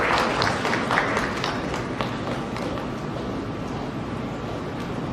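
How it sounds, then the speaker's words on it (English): Applause from an audience at a Mumbai award ceremony honoring health icons, a steady wash of clapping that is loudest at first and gradually softens while continuing to the end. "A big round of applause for Dr."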